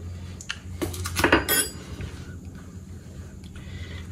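A metal tablespoon clinks against a dish or pan several times in quick succession while sprinkles are measured into white chocolate fudge, followed by faint scraping in a quiet kitchen.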